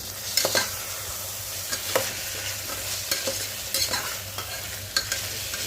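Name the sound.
peas and potato pieces sautéing in oil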